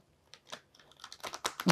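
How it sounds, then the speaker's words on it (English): A large tarot deck is shuffled by hand, giving sparse soft card clicks that build into a quick, louder flurry of riffling at the end. "lately I've been needing to shuffle this deck because they're so large"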